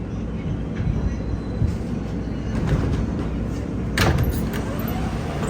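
An R160A R subway train rides through the tunnel with a steady, loud rumble and clatter, and a sharp door-related burst near the end.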